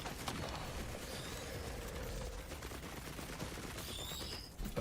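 Automated turrets in a shooter game fire a steady rapid clatter of shots throughout, moderately loud and dense, with a brief mechanical whine near the end and no talk.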